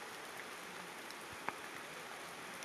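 Rain falls in a faint, steady wash of hiss, with a single soft drip or tap standing out once.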